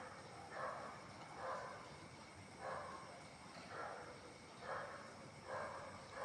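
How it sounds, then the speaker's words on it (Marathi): Dogs bark far off in the early morning, faint single barks repeating roughly once a second against a quiet background. "कुत्र्यांचा भुंकण्याचा आवाज येतो आहे."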